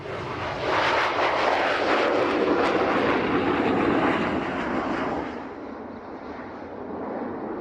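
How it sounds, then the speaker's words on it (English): An RAF Harrier jet roars through airshow manoeuvres at Leuchars, a loud, sustained, broad engine blast that holds steady before easing slightly as it moves off. "Making a welcome return to Leuchars, the Royal Air Force Harrier, performing those manoeuvres that only a Harrier can."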